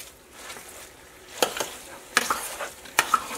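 Chili mixture with flour is stirred in a pot while it fries, giving a soft bubbling sizzle and three or four quick scraping strokes.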